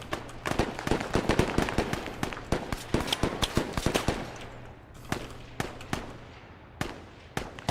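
Gunfire in an Arma co-op military game at a compound near a guard tower and a BTR, with rapid, sharp cracks in irregular bursts. Some shots sound close, others echo farther off, and the firing thins out toward the end.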